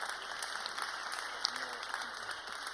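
Audience applause greets the Dijon smart city project at an awards ceremony in Paris, a soft, steady patter of clapping heard faintly with a voice speaking over it.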